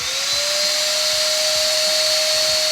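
A Uwant Y100 fabric cleaner runs steadily with a loud, constant vacuum-like motor whine and airy rush, unbroken from start to finish.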